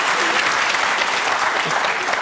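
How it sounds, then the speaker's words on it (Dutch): A studio audience claps loudly and continuously on a Dutch late-night comedy show, a dense, steady burst of applause with no pauses. "Een applaus."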